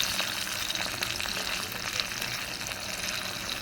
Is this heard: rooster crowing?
no